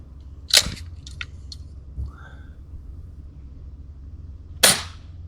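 An airgun fires darts in two sharp, loud cracks about four seconds apart, with quieter clicks and small handling noises in between.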